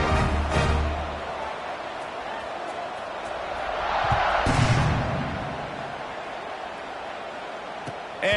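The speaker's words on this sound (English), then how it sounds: "this crowd is buzzing after that last" A football stadium crowd at a Florida vs Texas Tech game buzzes after a touchdown, a broad, steady roar with a brief thump near the start and a swell in the middle.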